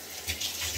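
Water pours and splashes steadily while conditioner is rinsed from a three-year-old child's hair, a brief close gushing stream with a soft rise in the middle.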